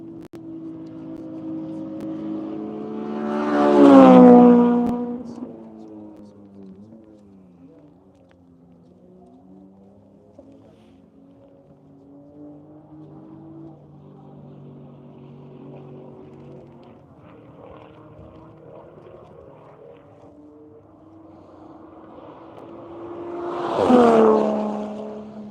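Race cars lapping a track, including a Honda CRX at the corkscrew. Two loud engine passes come about twenty seconds apart, each swelling and fading quickly, with faint distant engine drone between them.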